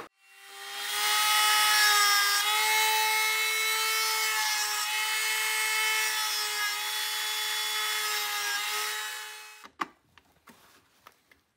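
A rotary grinding tool cuts a slot into a hardened security screw on an Atari Super Pong console, a loud, steady high-pitched whine held for about nine seconds before it stops, followed by a few light clicks and taps.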